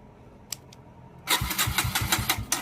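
An engine cranks in a rapid, even rhythm of repeated starter pulses that begins after a couple of faint clicks and continues without catching, close and fairly loud.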